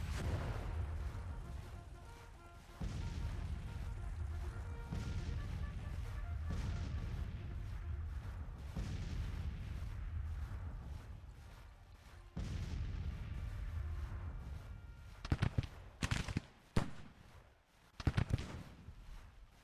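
Cannon fire from Civil War artillery firing canister in a strategy battle game, booming under a continuous rumbling battle din, with a cluster of sharp, louder blasts near the end.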